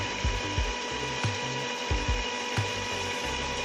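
Electric mixer on low speed beating brownie batter with melted chocolate, a steady motor whine with regular low knocking thumps as the beaters hit the bowl, close and alone.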